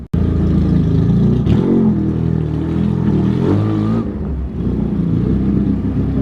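A heavy motorcycle engine runs loud and close, revving and holding a rough, steady roar for several seconds with small dips in pitch.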